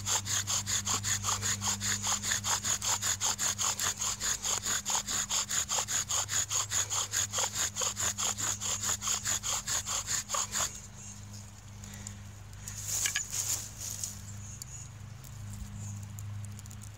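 Bow drill spindle driven into a wooden fireboard for a friction fire, rapid even back-and-forth scraping strokes for about ten seconds, then the rhythm stops and only quieter rustling and handling sounds remain.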